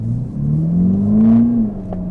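A Ferrari Roma launching hard in launch mode, its engine note climbing steadily under load from inside the cabin, loud and rising then easing off near the end, with no one talking.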